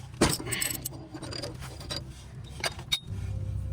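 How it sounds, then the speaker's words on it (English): A socket on a breaker bar turns counterclockwise on a Chevy Equinox inner tie rod, giving metallic clanks, ratcheting clicks and creaks in irregular bursts, close and moderately loud with no talk. "So you put your socket in there and you go counterclockwise like you're loosening a bolt"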